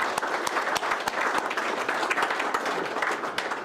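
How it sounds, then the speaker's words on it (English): Steady audience applause at a town State of the Town event, dense overlapping claps with a few sharper individual hits, even and sustained throughout with no talking. "Let's give them a round of applause."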